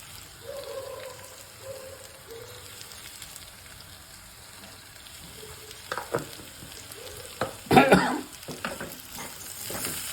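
Coconut and capsicum fry being stirred in a pan with turmeric and salt, soft scraping and light sizzling with a few louder clanks of the spoon against the pan near the end.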